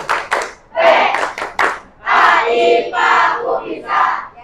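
Classroom students perform a rhythmic clapping chant, sharp clap bursts alternating with loud group shouting in a call-and-response pattern.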